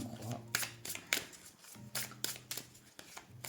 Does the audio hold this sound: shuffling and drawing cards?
yes